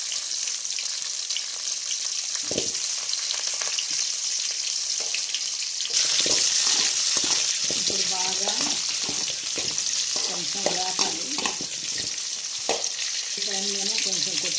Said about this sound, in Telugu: అందుకని నేను చిన్న ఉల్లిపాయలు వేస్తున్నాను